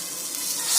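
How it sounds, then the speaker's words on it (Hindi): Water is splashed into rajma masala cooking in a hot pan. It makes a continuous close sizzling hiss that builds louder toward the end. "हम इसमें थोड़ा सा पानी भी डाल सकते हैं ताकि मसाला अच्छे से पक जाए।"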